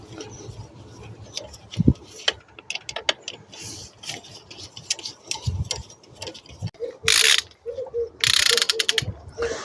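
A ratchet wrench on the cylinder head bolts of an Opel Corsa Utility 1.4i, giving rapid close clicking in quick runs and short pauses, with occasional louder metallic knocks and clanks between strokes.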